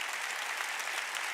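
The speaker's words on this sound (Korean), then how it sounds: "박수 치라." Steady applause from a church congregation during a sermon, dense and continuous throughout with no talk over it.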